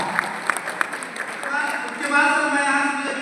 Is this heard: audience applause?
yes